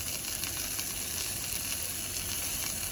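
Six sausages sizzle and spit in a frying pan, a steady, dense crackling hiss close by with no voices.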